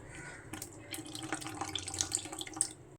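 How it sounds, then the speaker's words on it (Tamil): Tamarind water poured a little at a time into a spice mix while making a paste for vanjaram fish curry, a light trickling and dripping splash with small clinks, close by and steady for a few seconds. "புளி தண்ணியை கொஞ்சமாக ஊற்றி பேஸ்ட் ஆக்கிடலாம்."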